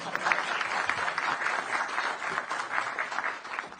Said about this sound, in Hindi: इस पर तो ताली तो बजनी ही चाहिए।